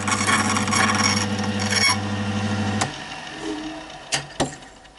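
A key cutting machine grinds a key with a steady mechanical whir and rasp for almost three seconds, then stops, followed by quieter handling and two sharp clicks.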